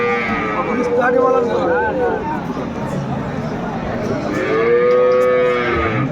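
A dairy cow moos loudly several times, long drawn-out calls close by, with people murmuring in the background at a livestock market in Aftabganj, Dinajpur.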